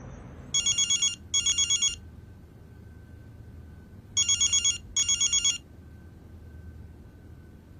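A phone rings in two pairs of short electronic trills, with a pause between the pairs, over a low background hum.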